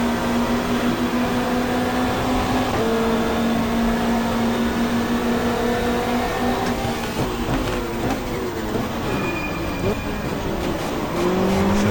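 Race car engines in a 1995 Australian Super Touring Championship race at Mallala, including BMW M3s, droning loudly and continuously with shifting revs through gears, under broadcast commentary.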